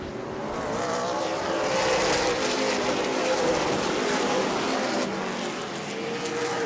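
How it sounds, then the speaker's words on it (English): Race cars roar around a weekly short-track oval at Auburndale, a loud continuous blend of engines passing close by, with no break in the noise. "trying to get past the 142 of Cody Stickler"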